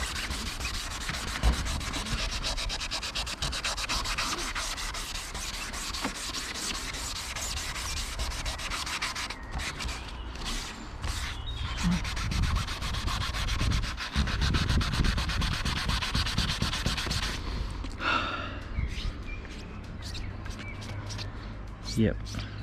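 Hand sanding of a car bumper on a Rover 75 with fine grit sandpaper, continuous close rasping rubbing strokes with brief pauses, under occasional talking.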